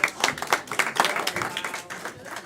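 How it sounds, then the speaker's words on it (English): An audience at a live game show event gives a short burst of clapping, loud at first and fading within a couple of seconds, with a voice briefly audible underneath. "Clap for Josh, everyone."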